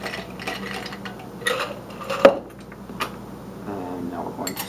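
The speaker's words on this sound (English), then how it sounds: "Let's get some ice in here." Ice cubes clink and rattle into a cocktail mixing glass in a few scattered, close knocks, one sharper clack standing out, beneath someone talking.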